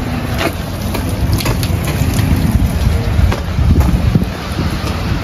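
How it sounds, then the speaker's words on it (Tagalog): Heavy rain and gusty wind roar steadily and loudly, with a dense rumbling wash buffeting the microphone continuously. "Pero medyo malakas yung ulan, no? Tuloy-tuloy yung ulan eh. Hangin pati."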